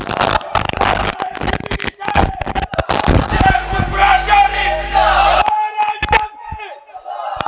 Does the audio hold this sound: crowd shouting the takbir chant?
yes